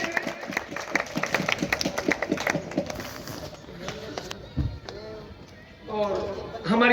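A crowd claps during a certificate presentation to honoured guest Jitendra Pandey at a ceremony in Bauddha Nagar, a busy burst of applause that thins out midway, after which a voice speaks near the end.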